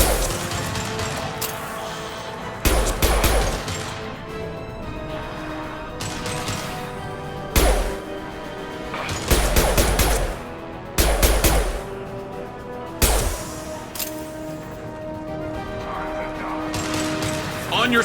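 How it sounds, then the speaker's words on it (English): Gunfire in Mass Effect 2, loud repeated bursts and heavy impacts in a busy firefight over a constant layer of game background noise, with spoken lines from the game in places. "Firing a high-impact shot!"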